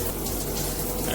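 A MakeFit filtered shower head sprays water in its regular mode, giving a brief, steady hiss of falling water at close range with no voices.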